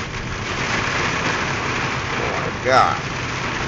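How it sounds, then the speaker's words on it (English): A heavy downpour drums in a constant roar during a strong windstorm, heard from inside a vehicle. A voice exclaims briefly near the end. "The downpour."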